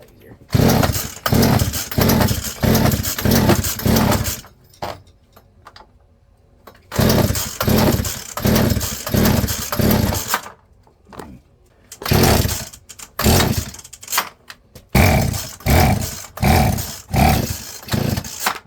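A Poulan chainsaw fitted with a new Hipa carburetor is started cold on choke, sputtering and revving in loud repeated bursts with short pauses between attempts, while people talk briefly.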